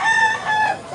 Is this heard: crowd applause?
no